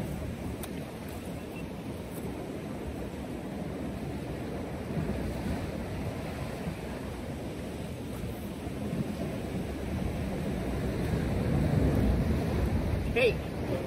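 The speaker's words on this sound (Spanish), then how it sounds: "No hay oleaje fuerte ahorita, está calmado" Calm ocean waves wash onto a shore in a continuous low rumble with wind buffeting the microphone, the surge rising gently toward the end.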